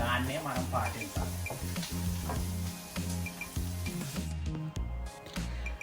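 Sliced onions frying in a pan for chicken tikka masala, a steady sizzle running under background music and a voice talking throughout.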